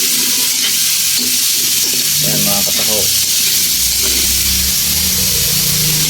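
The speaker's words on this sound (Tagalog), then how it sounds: "Akin po pinarito ng bahagya rin yung patatas at carrots." Potatoes and carrots sautéing in a pan for Filipino chicken pastel, a loud continuous sizzle and frying hiss with stirring scrapes, close up and steady throughout.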